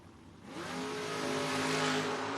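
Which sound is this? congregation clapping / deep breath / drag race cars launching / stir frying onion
drag race cars launching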